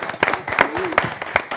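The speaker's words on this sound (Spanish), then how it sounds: "¡Fuerte aplauso!" Rhythmic audience applause at a festive year-end show in Córdoba after a Christmas carol, with steady claps mixed under a voice speaking over them.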